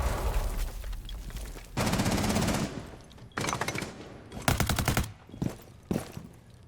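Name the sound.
gunfire from pre-firing in Rainbow Six Siege video game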